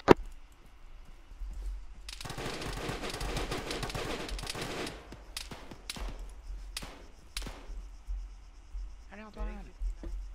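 Rapid bursts of video game gunfire crackle in a dense volley, followed by several sharp isolated shots, with faint chatter and a brief insect-like chirping near the end.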